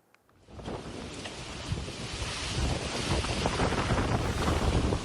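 Heavy rain with strong wind and hail lashes the town centre of Sidoarjo on a Monday afternoon, a dense, roaring wash of noise swelling steadily with gusty wind buffeting the microphone.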